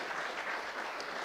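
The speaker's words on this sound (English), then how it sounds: "A big hand clap for Samson." Applause from an audience at an international university dinner, a brief steady wash of clapping at moderate level with no speech over it.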